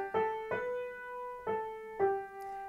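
A short, quiet right-hand melody from the piano piece 'The Echo' by T. Oesten rises and falls through a few soft, separate notes that ring close with no talking.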